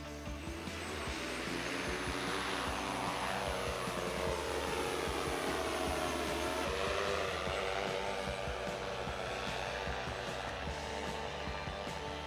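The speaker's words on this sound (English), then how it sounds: "So the drone is out there in the distance, cruising at approximately 30 miles an hour." A PRISM Sky delivery drone cruising at about 30 miles an hour outdoors, its propellers giving a continuous steady whine and hum throughout, fairly loud and unbroken, with no voices over it.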